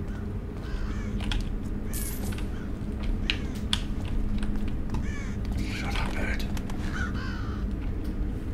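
Several crows caw on and off in Thief (2014), rasping calls scattered across a steady ambient game drone, moderately close and clear.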